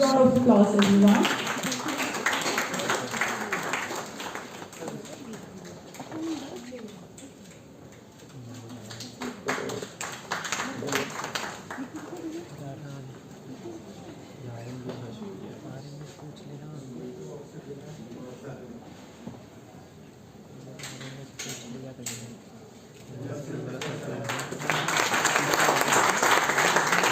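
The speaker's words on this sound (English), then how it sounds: "A big round of applause, everyone." Audience applause at the inauguration of an international academic conference at a university, strongest at the start and again at the end, with a quieter hall stretch between where some voices are heard.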